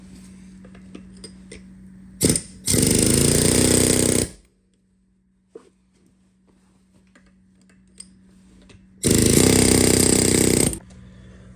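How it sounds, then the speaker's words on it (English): An air chisel hammers on car subframe bushings in two loud, rapid bursts of about two seconds each, separated by quiet workshop hum and small clinks, with no voices. "even the air chisel is not doing jack shit"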